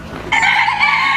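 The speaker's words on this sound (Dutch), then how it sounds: "Kippen, we gaan door naar de kippen" A single chicken lets out a sharp, loud squawking call, close by, brief and unaccompanied.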